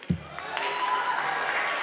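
Brief burst of audience applause at a Chicago mayoral candidate forum, a short clatter of clapping that quickly settles into a steady room wash.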